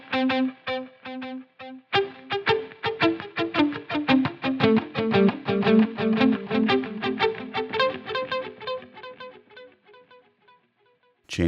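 Distorted guitar notes ring through a warbling, sine-wave modulated stereo delay, echoes repeating and swirling before fading out near the end.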